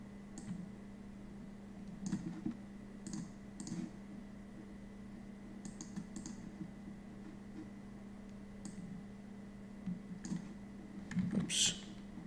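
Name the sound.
computer mouse double-clicking to import videos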